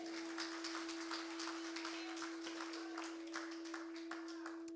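A church congregation applauds, with many hands clapping in a dense, steady patter and a constant tone humming underneath throughout.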